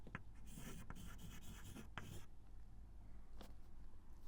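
Pen scratching out a short handwritten answer on paper, a few brief strokes and taps, faint and close against a steady low background hiss, with no talking.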